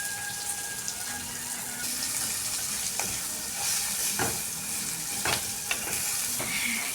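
Masala Maggi noodles cooking with cut cauliflower, capsicum and tomato in a pan, with hot water being poured in: a steady hiss and sizzle with scattered stirring clatters and splashes, close by and alone.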